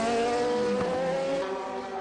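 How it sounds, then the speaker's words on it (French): Toyota and BMW race cars at the 1999 Le Mans 24 Hours, loud high-revving engines screaming past close by with tonal whine shifting in pitch, continuous throughout. "nouveau changement de leader avec cette fois-ci la Toyota numéro 2, pilotée par Alan McNish"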